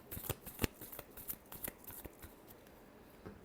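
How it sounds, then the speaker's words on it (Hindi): Tarot cards are shuffled close by in a quiet room, producing faint, quick papery riffles and taps that thin out toward the end. "last shuffle"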